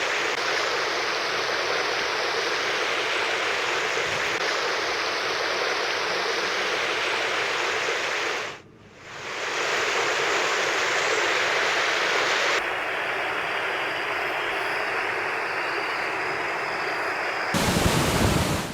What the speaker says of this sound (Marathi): या पावसामुळे ओढे नाले ओसंडून वाहू लागलेत